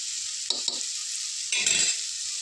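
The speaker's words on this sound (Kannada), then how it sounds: "ಚೆನ್ನಾಗಿ ಮಿಕ್ಸ್ ಮಾಡ್ಕೊಳ್ಳೋಣ" Chilli powder and coriander powder are stirred into a hot pan for tomato rice, with two short scrapes and then a longer stirring pass over a constant bright sizzle, close by, with no talking.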